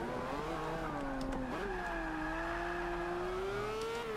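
Lamborghini Veneno engine in the Forza 5 racing game, a loud, sustained high-revving whine that dips briefly at a gear change and then climbs steadily again, continuous and close with no speech.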